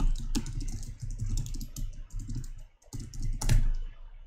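Keys clatter on a computer keyboard in quick, uneven bursts of close, light clicks with a brief pause midway.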